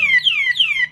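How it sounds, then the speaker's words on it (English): A Gorilla motorcycle alarm blares a loud, close electronic siren, its piercing pitch sweeping down in repeated rapid cycles. "So the alarm's going off"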